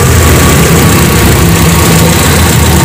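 A Hyundai Atoz engine idles steadily with a continuous low, even drone, loud and close, with no voices over it.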